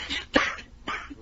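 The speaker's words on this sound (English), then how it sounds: "He's got a bad cough." A man coughs a few times in quick, harsh bursts, close and fairly loud, with short pauses between coughs.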